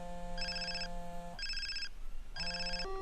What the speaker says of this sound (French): Ah, il y a le téléphone.